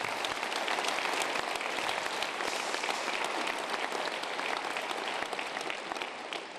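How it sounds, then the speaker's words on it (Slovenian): Steady, dense applause from an audience at a regional sports awards ceremony, sustained at even volume throughout with no talk over it. "dajmo še en aplavz."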